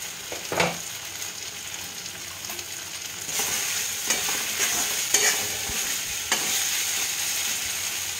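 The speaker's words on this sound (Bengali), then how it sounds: "কিছুক্ষণ নাড়াচাড়া করে আমি উচ্ছে ভাজাগুলো দিয়ে দেব" Fried bitter gourd being stirred in a pan: soft, irregular scraping and gentle sizzling, with a few sharper clinks of the spoon against the pan, close and moderately quiet.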